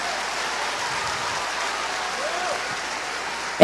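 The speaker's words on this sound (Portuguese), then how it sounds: "Se é para aplaudir, aplaude todo mundo junto com vontade." A church congregation applauds together in a dense, even wash of clapping that holds steady throughout, fairly loud and sustained.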